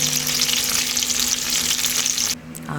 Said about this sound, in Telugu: ద సౌండ్ ఆఫ్ దట్ తాలింపు